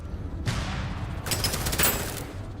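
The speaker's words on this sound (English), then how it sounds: "we're causing all these explosions" Gunfire and explosions in the shooter Deadzone: Rogue: a sharp blast opens, then a rapid burst of automatic fire rattles loudly for about a second before fading into rumble.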